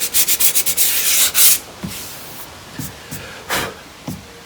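Sandpaper is rubbed by hand along the edges of a 2014 Subaru G4 rear bumper, a quick run of close rhythmic scratchy strokes followed by several slower, separate rubs with pauses between them.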